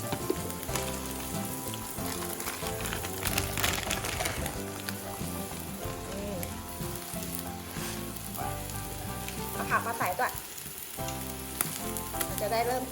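Food fries on an OTTO 1600 W electric barbecue grill with a loud, continuous close sizzle and crackle, with occasional stirring clatter and utensil noises throughout.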